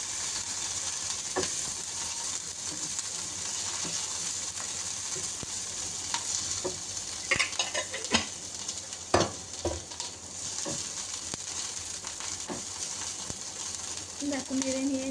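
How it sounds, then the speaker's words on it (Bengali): Ginger paste frying in a pan while being stirred, a continuous hiss of sizzling oil with scattered scraping and clinking strokes that grow busier midway. "হাফ টিস্পুন তোমার আদা বাটা, একটু নেড়ে নিচ্ছি"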